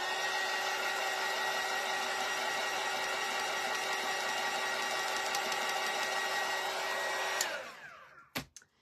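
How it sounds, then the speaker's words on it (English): A hair dryer blows steadily on a paper Empty Tomb craft kit, a loud, close, constant whine and rush of air that runs for several seconds before switching off and winding down, followed by a couple of small knocks. "Let me dry this real quick."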